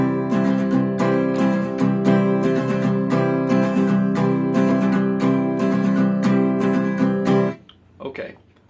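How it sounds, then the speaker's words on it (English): Acoustic guitar strummed in a steady, full-chord rhythmic pattern, loud and close for most of the clip before stopping abruptly, followed by a few faint handling noises. "we'll go through this strumming pattern."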